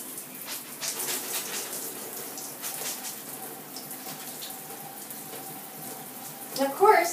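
Water runs steadily from a tap with a soft splashing hiss, a faint clatter near the end.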